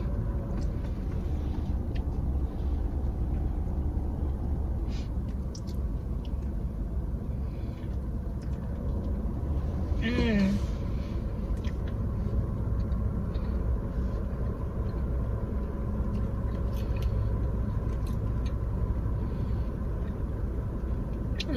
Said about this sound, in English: Cars are passing by.